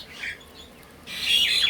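A pet songbird gives a few bright chirps and a louder rising twitter near the end, fairly close and alone with no voices.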